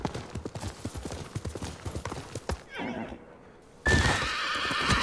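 A horse in the video game Ghost of Tsushima gallops with quick, rhythmic hoof clops, then gives a loud, sustained neigh near the end.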